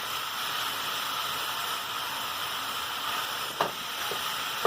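Ground beef browning in a pan for beef, bean and cheese burritos, a steady close sizzle and hiss, broken near the end by a couple of soft scraping knocks as the meat is broken up.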